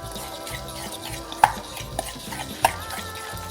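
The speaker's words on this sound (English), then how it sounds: "half of the egg mixture and put that in there as well. I'm going to mix that together." Egg mixture is stirred into a sweet potato pancake batter in a bowl, giving a soft continuous wet mixing swish with a few light utensil clinks against the side.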